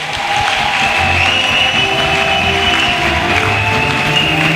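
A church congregation applauds and cheers continuously during a service, a dense, steady wash of clapping that holds at a constant loud level throughout with no pauses.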